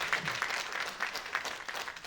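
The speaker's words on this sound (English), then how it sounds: "My boss will be glad to hear that I got all that applause." An audience at a Tennessee human rights commission anniversary event applauds in a brief, even burst of clapping that fills the room, moderately loud and steady throughout.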